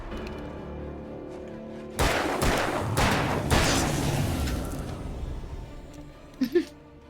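Shotgun blasts in the video game Alan Wake: after a quiet stretch, a few heavy, loud booming shots land about a second apart, each trailing off, followed by a couple of short sharp knocks.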